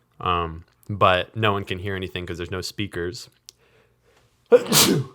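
A single sharp sneeze near the end, heard right after a person finishes talking.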